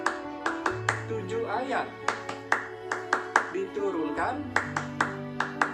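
Rhythmic hand clapping in a steady patterned beat, the tepukan Al-Fatihah clapping game, with sharp regular claps repeating throughout under a voice chanting and talking along.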